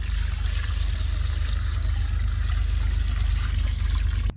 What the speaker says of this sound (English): I'm going to go ahead and get more water in the bucket and dump it in the hole